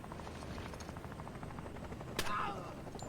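A helicopter sets down during a Door Kickers 2 tactical mission, its rotor thrum a steady low wash under faint gunfire, with a sharper burst near the end.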